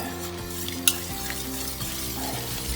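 A utensil stirs melting cheese sauce made with milk and flour in a pan for nachos, giving a soft steady scraping and bubbling with light sizzle and no voices.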